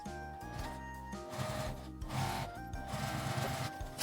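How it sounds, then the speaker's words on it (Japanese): A sewing machine topstitches close to a fabric edge while making a slim coin purse from small scraps, running with a steady, close mechanical whir and rhythmic needle chatter that persists throughout. "縫い代を表側に倒して表だけ端ミシンをかけます。"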